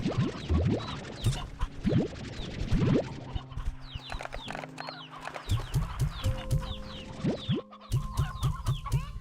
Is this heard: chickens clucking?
yes